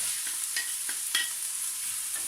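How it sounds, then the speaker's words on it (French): Beef and onions fry in olive oil in a pan, a bright hissing sizzle broken by a few crisp stirring clicks and scrapes, close and alone. "on va venir cuire le bœuf et les oignons"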